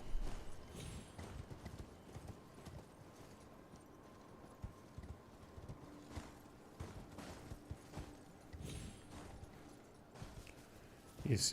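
A horse's hooves clip-clop steadily at walking pace in the video game Elden Ring, moderately close, with occasional sharp game effects and faint background sound.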